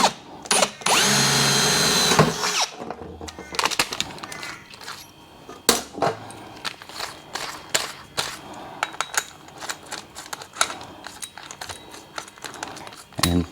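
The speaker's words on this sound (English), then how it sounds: "We're not going to drill into any wiring or anything underneath. We drill a pilot hole." A power drill bores a pilot hole for an ISI bike carrier bracket on a Track TVAN camper trailer: one loud, steady whirring burst of about a second and a half, followed by scattered clicks and handling knocks.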